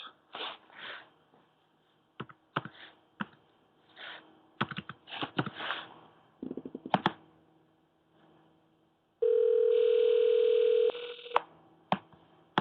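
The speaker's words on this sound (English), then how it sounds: "Dialing it now." A telephone line gives short tones and clicks, then a loud, steady dial-type tone holds for about two seconds before cutting off, followed by a few more sharp clicks, with no talking.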